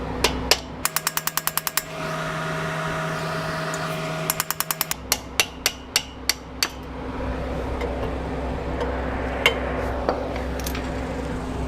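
Sharp metal-on-metal hammer strikes on a Subaru WRX transmission roll pin, first in quick rapid bursts, then slower separate blows, ringing close over a steady low mechanical hum.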